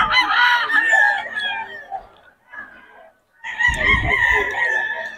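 An SBR gamefowl rooster crows twice nearby, each long call loud and drawn out, with a brief quiet gap and some faint clucking between the calls.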